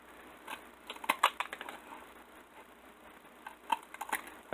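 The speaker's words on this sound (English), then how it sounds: "you can just take your shears or whatever cutting instrument you've got" Shears snip siding trim to length in sharp, close clicks that come in short bursts and then go quiet for a while before a few more cuts.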